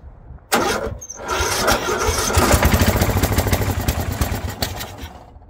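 A 2004 Murray 12.5 HP lawn tractor engine cranks and catches with an abrupt burst, then settles into a loud, steady running rumble close by.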